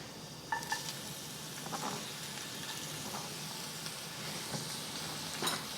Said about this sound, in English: adding 2 tablespoons of vegetable oil and tossing in our ginger